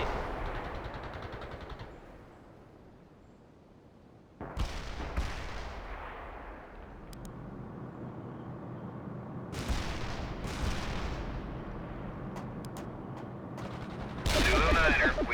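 Artillery firing in World in Conflict, heavy booming blasts and sustained low rumbling explosions that swell and fade in waves, loud and close, with a sharp burst near the end.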